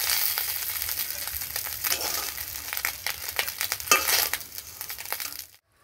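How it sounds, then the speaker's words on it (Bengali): Small fish frying in hot oil, cooked for a kochur lati (taro stolon) dish: a close, steady crackling sizzle with sharp pops throughout that cuts off abruptly near the end. "মাছটা আমার ভাজা হয়ে গেছে"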